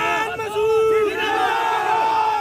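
Political rally crowd in Saharanpur, Uttar Pradesh, raising loud, sustained chanted cheers and battle-cry shouts close by, with rising and falling group voices throughout.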